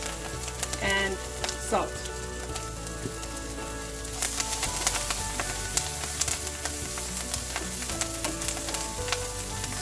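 Kale sizzles and fries steadily in a pan while being stirred for a South Indian kale and coconut poriyal, with a brief spoken remark and a few sharper clatters over the hiss.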